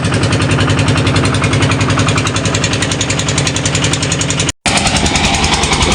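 A heavy fishing trawler engine chugs loudly and steadily on a river with a dense rhythmic thrum, broken by one brief dropout near the end.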